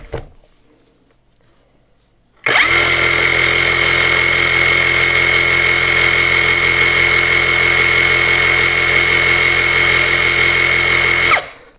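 A KAMOLEE DTW500 cordless impact wrench runs in reverse at maximum speed, starting suddenly after near-silence into a loud, steady high-pitched motor whine that holds constant for about nine seconds, then cuts off.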